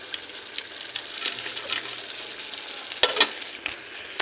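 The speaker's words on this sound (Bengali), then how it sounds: "এবার আমি এর মধ্যে ভেজে রাখা চিকেনগুলো দিয়ে দেবো।" Fried chicken pieces stirred into chili chicken Maggi noodles with Maggi seasoning and soaking water in a pan, giving a steady close sizzle with scraping stir strokes and a couple of sharper clatters near the end.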